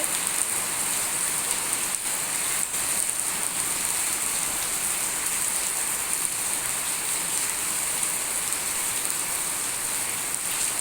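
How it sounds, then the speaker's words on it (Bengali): Steady rain pours down on an evening under dark clouds, a dense, even hiss of drops striking surfaces nearby with no break, with no voices. "বৃষ্টি হচ্ছে।"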